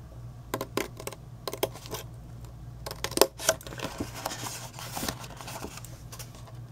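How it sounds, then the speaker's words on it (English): Scissors snipping through the tabs of a paper gift box, with a series of sharp, close clicks and crisp cuts in uneven bursts, some spaced apart and others clustered, plus light handling rustles in between. "Cut up on that score line and angle."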